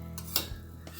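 A metal spoon clinks against a pan once or twice while turmeric powder goes into a mustard gravy for hilsa fish, short bright taps close up with no talking.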